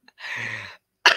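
A single human cough, close and fairly loud, with a short throaty burst followed by a second harsh exhalation, alone without talk.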